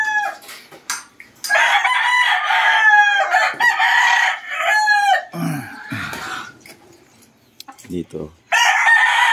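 A rooster crows several times, loud and close, with clucking fowl and a short spoken word partway through.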